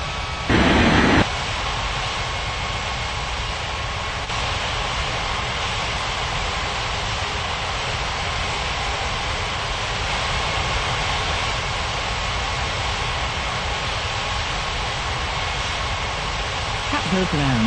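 An aircraft taxiing in an air traffic control game, a constant loud jet engine drone with broadband roar that holds steady throughout, with a brief burst of noise near the start.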